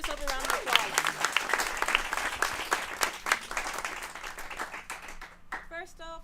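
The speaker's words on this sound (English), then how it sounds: "Give yourself a round of applause." A crowd at a Botswana student showcase claps loudly and steadily, dense applause with voices mixed in that thins toward the end as a speaker starts.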